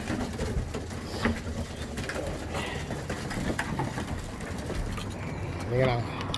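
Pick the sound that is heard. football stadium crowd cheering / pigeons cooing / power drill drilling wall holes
pigeons cooing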